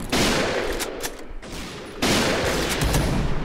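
A BORA-12 sniper rifle fires in the Point Blank video game, two loud booming shots about two seconds apart, each with a long, dense, rumbling tail that fills the gap.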